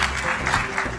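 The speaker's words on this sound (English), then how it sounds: "Please a round of applause for our panelists" Audience applause for panelists at the COP28 summit Energy Day session, a steady wash of many hands clapping in a large hall, brief and continuous.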